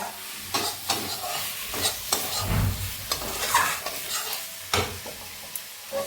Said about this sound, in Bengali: তারপরে আলুটা একটু ভেজে নেব।